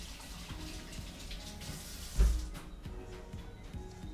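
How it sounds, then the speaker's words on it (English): Tap water running at a kitchen sink while hands are rinsed, a steady soft splashing that continues throughout with one brief thump partway through. "So a quick rinse of the hand."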